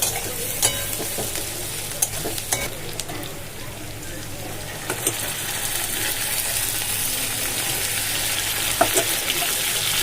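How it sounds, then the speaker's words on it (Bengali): Onion, whole cumin seeds and dry red chillies sizzle in hot oil in a home kitchen, a steady crackling fry broken by occasional stirring scrapes and clicks close by. "তেলের মধ্যে গোটা জিরে দিয়েছি শুকনো লঙ্কা দিয়েছি আর পেঁয়াজটা দিয়েছি"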